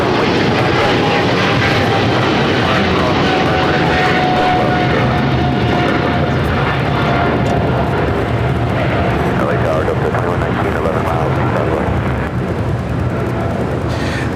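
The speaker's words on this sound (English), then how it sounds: "EVA Air Flight 5 taking off to Taipei on the 777-300ER" An EVA Air Boeing 777-300ER takes off at LAX, its jet engines roaring loud and steady throughout, with someone talking over the noise.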